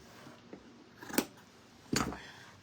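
Household scissors making a few crisp snipping cuts through paper or fabric, two distinct louder snips close by with a fainter one earlier, against quiet room tone.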